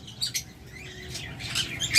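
A lutino Fischer's lovebird gives a few quick, high, faint chirps over a soft background murmur.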